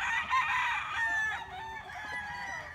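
A rooster, one of the crossbred or purebred game birds kept at a breeder's farm, gives a long, loud crow nearby, with faint clucking and other fowl in the background.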